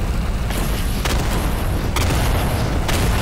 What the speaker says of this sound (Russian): Выдержит ли аниматроник этот выстрел танка?